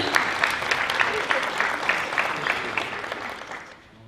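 An audience at a high school Hall of Fame induction ceremony applauds with a dense, steady wash of clapping that holds at a fairly loud level, then tapers off and fades near the end.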